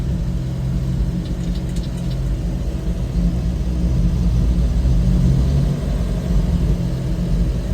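A 1956 Chevrolet 235 inline-six idles rough and uneven, a steady low mechanical rumble heard up close and alone, with slight unsteady swells as it struggles to keep running.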